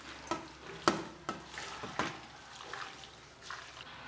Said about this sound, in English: Now we'll start mixing this.